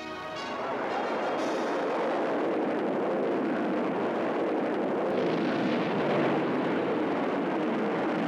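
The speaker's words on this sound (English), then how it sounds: "As the rocket soared" A Redstone rocket launches and climbs, a loud, sustained broadband roar that swells in the first second and then holds steady and dense throughout.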